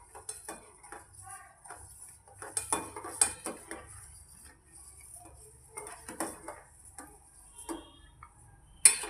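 A spoon stirs sugar into a homemade almond shake, with soft intermittent clinks and taps against the glass, fairly quiet and close, with no talk.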